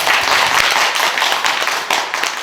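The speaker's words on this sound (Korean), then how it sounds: "박수 한번 치세요." An audience at a Buddhist monk's lecture on the Lotus Sutra claps together in a dense, steady burst of applause that fills the hall for a couple of seconds.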